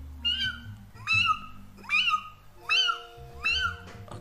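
A person imitates a kitten's meow five times in a high, rising-falling voice, evenly spaced, over a low background hum.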